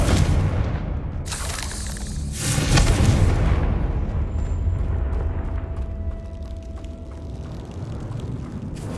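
Confringo blasting spell in Hogwarts Legacy, a couple of loud bursting explosions early on followed by a rumbling low tail that fades over several seconds, with no voices.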